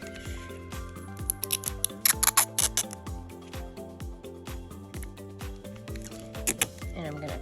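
Scissors snipping through paper and clear tape while making a paper squishy craft, a series of close, crisp cuts and crinkling tape handling, with sharper clustered snips midway.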